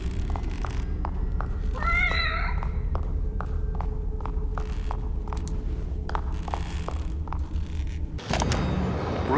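A cat meows in The Evil Within DLC video game, a short wavering cry early on, amid repeated sharp taps, soft thuds and a low ambient rumble.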